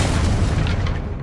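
A Confringo fire spell explosion in the video game Hogwarts Legacy on PS5, a short heavy boom with a rumbling low body that fades slightly toward the end.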